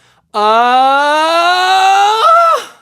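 A single sustained voice slides steadily upward in pitch, then cracks abruptly near the top before trailing off, loud and close with no other sound.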